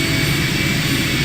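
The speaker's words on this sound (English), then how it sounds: "The engine's starting up again." A machine engine in the game I Have No Mouth & I Must Scream drones loud and steady, a dense, unbroken roar with a rushing, jet-like hiss that fills the whole moment.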